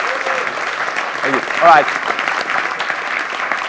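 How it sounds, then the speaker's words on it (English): An audience at a dental practice-growth seminar applauds for a returning presenter, steady clapping filling the room as someone briefly speaks over it. "Give him a round of applause, please."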